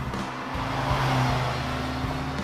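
The 2.4-liter GM Ecotec engine of a Polaris Slingshot SLR LE revs in a close, steady rumble that swells a couple of times, with no voices.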